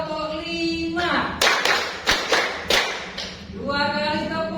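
A voice holds a sung tone, then five sharp hand claps ring out in a quick pattern, close and loud, before the voice resumes.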